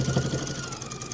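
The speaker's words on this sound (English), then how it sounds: "I'm going to sew a little bit, then I'll go in reverse, and then I'll continue stitching down through the side." A sewing machine stitching a mesh tote runs with a quick, even mechanical whir and a soft rhythmic knock, close by and moderately quiet, for about a second.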